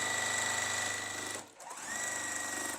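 Sewing machine stitching quilt pieces for a sampler quilt block, a steady close whirring run that stops for a moment partway through before the stitching resumes at the same pace.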